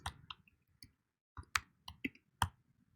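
Keys clatter on a computer keyboard in short irregular bursts as a command is typed into a terminal, close and clear with brief pauses between clusters of clicks.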